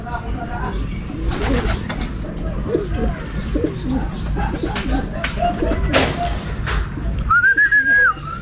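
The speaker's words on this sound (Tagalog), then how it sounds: "Ayun, dun dumapo mga kalapatids sa may gilid" Pigeons coo repeatedly around a rooftop edge outdoors, with a flutter of landing wings and a clear whistling call near the end, under steady background noise and someone talking.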